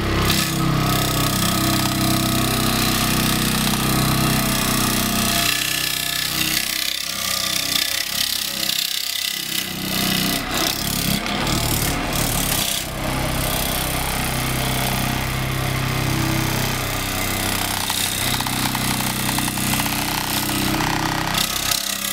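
Homemade vibratory plate compactor running outdoors, a loud continuous engine drone with harsh rattling vibration that briefly dips and shifts near the middle before resuming steadily.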